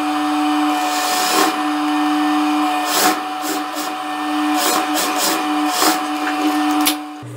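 A sewing machine stitches along the inner edge of bias binding on a blouse, producing a steady whirring hum with a tonal drone and intermittent fabric rustles and clicks, close by, ending with a sharp stop.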